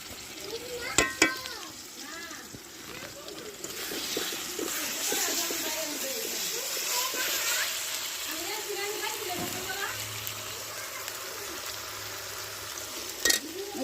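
Onion, ginger and garlic fry in a pan for a home-cooked desi chicken dish, a steady close hiss with stirring scrapes and a few sharp clinks, while people talk over the sizzle.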